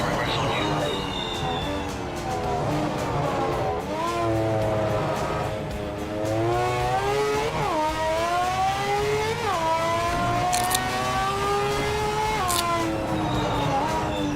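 A Sauber race car in the Project Motor Racing video game revs up and down through repeated gear shifts, engine pitch climbing and dropping in several sweeps, with commentary voices talking over it.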